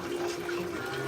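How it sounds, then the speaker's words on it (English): Tap water runs steadily in a loud, continuous hiss with a faint tonal hum, close by, with no talk over it. "Let me cut this water off, girl, because it's too loud"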